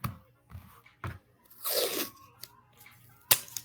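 Strips of tape torn off a roll for a crayon-melting art project, with several short rips early on and a longer, louder tear in the middle, then a sharp snap near the end, heard close up and without talk.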